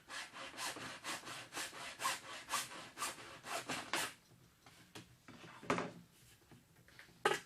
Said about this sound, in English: I'm just using the hacksaw and cutting high of the line.